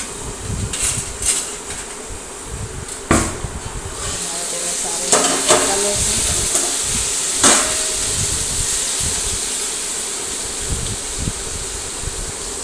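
Asafoetida, curry leaves, brinjal and potatoes drop into hot oil where mustard and cumin seeds have popped, giving a loud continuous sizzle with sharp crackles and spoon clatter as the pan is stirred, close by.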